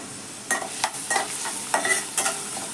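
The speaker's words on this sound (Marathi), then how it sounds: "तेल तापले, आता आपण कांदा टाकून घेऊया।" Onion frying in hot oil for dry shrimp (sukha jawala), with a broad steady sizzle broken by several sharp bursts of stirring and scraping in the pan, close and alone with no talk.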